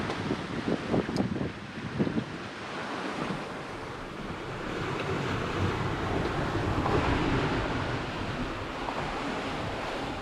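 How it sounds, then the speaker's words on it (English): Wind and waves aboard a sailboat running dead downwind under a screecher in about 15 knots of wind on the Atlantic, with a continuous broad rush of water and wind buffeting the microphone, loud and steady, no voices. "In about 15 knots of wind directly downwind, of course."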